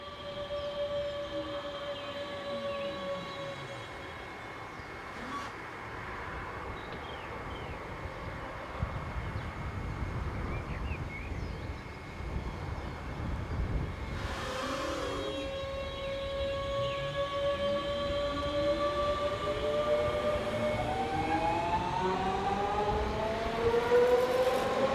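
German Class 424/425 electric multiple unit passing on the Northeim–Hannover main line, a long rising and falling electric motor whine with rumbling wheels on track, heard from trackside and growing louder toward the end.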